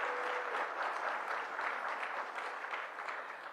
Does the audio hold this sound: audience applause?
yes